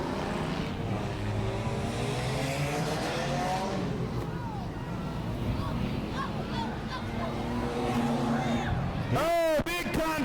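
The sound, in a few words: race cars on oval track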